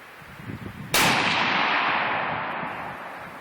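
A single loud gunshot from a Mini-14 rifle fired at a bottle outdoors, a sharp crack after a quiet moment followed by a long fading echo.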